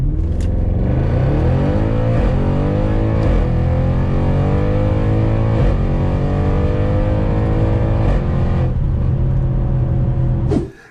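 A 700bhp Audi RS6 accelerates hard during a 0-60 run on a private road. The engine roars loudly and climbs through several gear changes with brief dips between pulls, then cuts off abruptly at the end.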